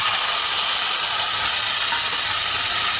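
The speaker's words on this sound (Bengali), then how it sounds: "এই পেস্টটাকে আমি এখন এর মধ্যে দিয়ে দিচ্ছি" A spice paste of turmeric, cumin and chilli hits a hot pan for a Bengali papaya and prawn ghonto, producing a loud, steady, close hiss and sizzle that holds unbroken throughout.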